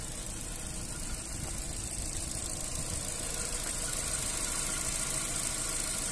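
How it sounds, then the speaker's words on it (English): A 2008 Mazda 3 1.6 Takara hatchback idles smoothly, producing a low, even engine hum with a soft steady rumble at moderate distance and no talking. "Nice and smooth running engine."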